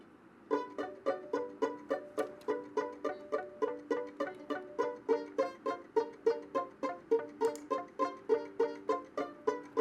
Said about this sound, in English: we have a different feel between the violin 2 and electric guitar